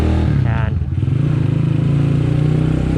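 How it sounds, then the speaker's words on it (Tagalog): A Skygo Earl 150 motorcycle with an upgraded 28mm carburetor CG 150 engine runs at light throttle in city riding, giving a steady, close, low engine drone throughout. Someone speaks over it. "Mga ganto-gantong throttle lang tayo."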